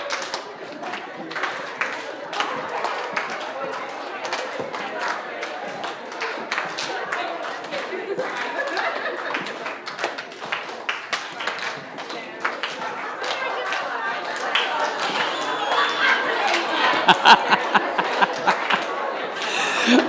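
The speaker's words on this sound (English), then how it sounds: "so we have clap, snap, stomp." A group of people clapping, snapping and stomping together in a repeating rhythm, a steady mass of sharp taps that grows louder toward the end, with laughter and chatter mixed in.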